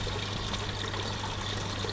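Water runs from an old hand pump in Israel in a steady, continuous stream, splashing and trickling without pause, alone and fairly close.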